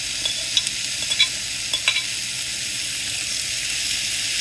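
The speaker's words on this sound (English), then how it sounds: "Go ahead and stir that around, and you will have this beautiful mixture." Paprika, Italian seasoning and oregano are stirred in a hot pan, a steady loud hiss of frying under several light clicks and scrapes of a utensil early on, then a continuous sizzle.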